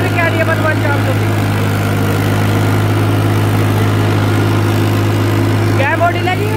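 A 2009 Balwan 400 tractor fitted with a tiller runs with a steady, loud low-pitched engine drone and humming harmonics throughout, close by and unbroken, with a brief higher whine near the end.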